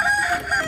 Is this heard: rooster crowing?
yes